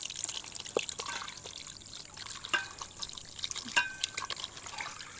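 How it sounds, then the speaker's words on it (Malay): Fish being washed with water and tamarind in a kitchen gives continuous light splashing, trickling and dripping, with small clinks and sloshes, close and fairly soft. "Kemudian basuh dengan asam jawa. Letak air sikit ni untuk buang hanyir ikan."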